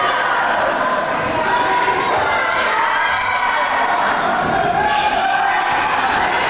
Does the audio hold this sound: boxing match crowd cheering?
yes